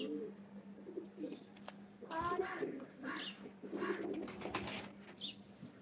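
A Kamgar pigeon coos in soft repeated throaty phrases close by, alongside a steady low hum, while someone talks over it.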